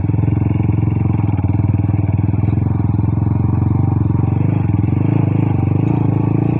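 A sports adventure motorcycle rides along a bay walk road, its engine giving a loud, steady, close drone with rhythmic pulsing and some rattling, continuous throughout.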